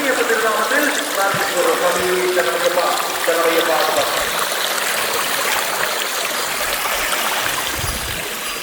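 Stream water rushes steadily, a continuous broad hiss with gurgling, as someone talks over it, on the Erumeli–Mukkuzhi forest trail to Sabarimala.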